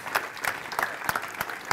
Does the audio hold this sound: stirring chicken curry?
no